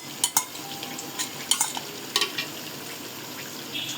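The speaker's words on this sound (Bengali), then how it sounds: "ভেজে রাখা চিকেনগুলোকে এখন সুন্দর করে একটু নেড়ে নেওয়া হবে" Fried chicken tossed in a pan with a gentle steady sizzle underneath, punctuated by sharp spoon scrapes and knocks against the metal at an uneven pace; no talking.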